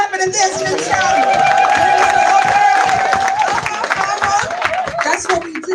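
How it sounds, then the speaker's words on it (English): A lively crowd claps and shouts together in a dense, continuous din, with a sustained sung or held vocal tone rising above the noise. "Let me hear some clapping and dancing and shouting."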